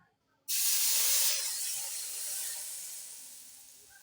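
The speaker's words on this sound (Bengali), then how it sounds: "এখন এই গরম সরিষার তেলটা দিয়ে দিচ্ছি" Hot mustard oil poured over spiced olives for pickle sets off a sudden loud, close hiss that bursts in after a short silence, then slowly fades into a steady, softer sizzle.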